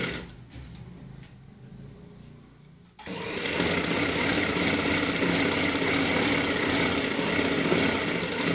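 Quiet rustling and handling of fabric gives way to an electric sewing machine running a steady, close, continuous whirring stitch along a kurti collar strip for the remaining seconds, with no talking.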